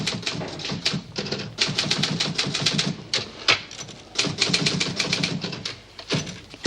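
Rapid typewriter keystrokes clatter in uneven bursts with brief pauses, loud and close, with no one speaking.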